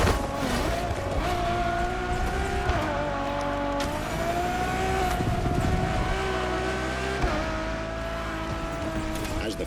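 A Ferrari Enzo supercar engine in The Crew Motorfest hums steadily and loudly throughout, with rising and falling pitch as it revs, joined by faint tire noise, under a continuous voice talking.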